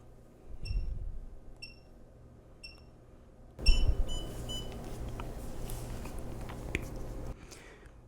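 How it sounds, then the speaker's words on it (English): A key programming device working on a Mercedes W210 electronic ignition switch gives short, evenly spaced electronic beeps in a quiet room, then a denser series of beeps comes in under workshop noise. "it'll give us a couple of beeps when it's finished"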